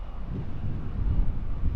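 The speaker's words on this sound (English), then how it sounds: "Just a windy day." Steady low rumbling wind buffeting the microphone, continuous and fairly loud with no voices.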